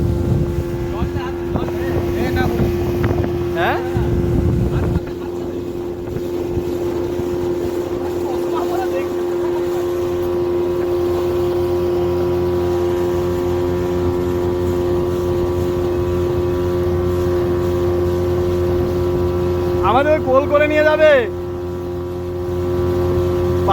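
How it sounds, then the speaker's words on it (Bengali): A boat engine drones steadily throughout on a ride across the Chandil Dam reservoir, with wind noise over the microphone and a few brief voices near the start and toward the end. "আমরা নৌকা বিহারে বেরিয়েছি ড্যামের মধ্যে"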